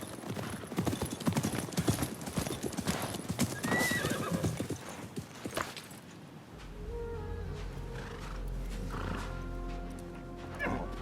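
In the video game Assassin's Creed Mirage, horse hooves clip-clop rapidly at first, then a horse neighs loudly and whinnies in a long drawn-out call, with a low rumble underneath.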